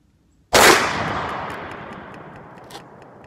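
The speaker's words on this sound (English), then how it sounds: "Okay, that's five shots." A single loud blast from a Mossberg Model 695 shotgun fired outdoors, with a sharp onset and a long rolling echo that slowly fades, heard alone without talk.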